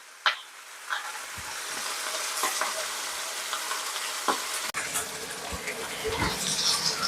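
Oil sizzles loudly in a pan while beef cooks for a Uzbek-style beef head and chickpea dish, a steady close frying hiss broken by scattered pops, clinks and stirring scrapes.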